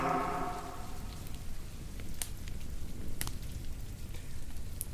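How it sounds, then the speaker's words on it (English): Light rain falls steadily outdoors during a film shoot, giving a soft, continuous patter with a few sharper drips and brief taps throughout. "The rain was not big enough."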